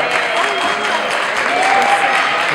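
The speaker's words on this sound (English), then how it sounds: "Thank you for the applause." An audience applauds steadily at a high school jazz band concert, a dense, loud wash of clapping from many hands, sustained without a break.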